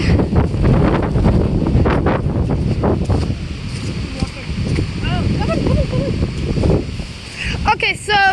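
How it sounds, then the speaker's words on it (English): Strong hurricane wind batters a microphone outdoors near a harbor, a loud continuous roar and buffeting with gusty surges, while a person talks over it. "Oh my god, it's so windy."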